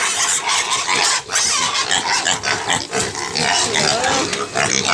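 Weaned piglets about fifteen days old grunting, oinking and squealing together in a pen, loud and close, a dense jostling chorus with no pauses.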